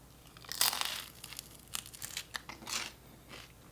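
Someone bites into a crunchy chicken flatbread and chews it. A few sharp, close crunches are followed by softer crackling chews in an irregular rhythm in a quiet room.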